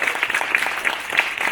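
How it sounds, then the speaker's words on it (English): Round of applause from staff and students at a mural reveal for a university visual arts department, steady dense clapping throughout the short stretch with no voices on top. "So I just want a quick round of applause for everyone who got to work together on this project."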